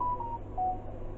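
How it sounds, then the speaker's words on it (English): A mobile phone gives two brief, clean electronic tones, one after the other, over a steady low background hum indoors. "And it's my phone again."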